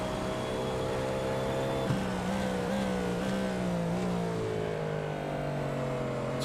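A race car engine at Sebring in a racing video game holds a steady drone, then revs rise and fall as the throttle is worked, with gear and pitch shifts under constant road and engine noise.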